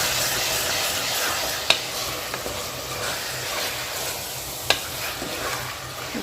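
Mutton head curry with ginger garlic paste, tomato and green chilli sizzles steadily in a pan while a spoon stirs through it, with two sharp clanks of metal against the pan.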